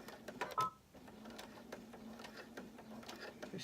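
A sewing machine running a straight stitch through rope for a coiled rope bowl, a steady close mechanical whir with a rapid ticking rhythm and a brief beep near the start.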